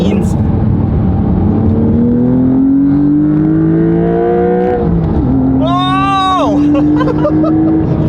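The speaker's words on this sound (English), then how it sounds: "You get all the Porsche induction noise." A Porsche engine revs loudly toward 6,000–7,000 RPM, its induction noise rising in pitch, dropping briefly as it shifts, then climbing again with a whining harmonic. A short exclamation is heard over it.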